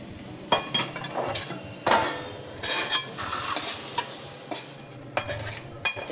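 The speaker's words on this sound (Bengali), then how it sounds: "নাড়াচাড়া করে যত সুন্দর করবে এই কপিটা খেতেও ততটাই সুন্দর লাগবে" Cabbage stir-fried in a pan, with a spatula scraping and stirring in repeated close strokes over a steady sizzle; no voices.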